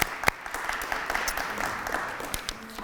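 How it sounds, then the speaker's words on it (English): An audience at a lunchtime lecture applauds, a moderate, steady patter of many hands clapping at some distance, continuing without pause for a few seconds. "let's have a round of applause for Ron and Jennifer for sponsoring today's talk"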